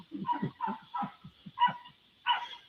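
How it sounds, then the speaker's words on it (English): Outside, a dog lets out a string of fairly faint, muffled barks and yips in an irregular rhythm, about eight in under three seconds, heard alone without talking. "Can somebody go out there and shoot that dog, please?"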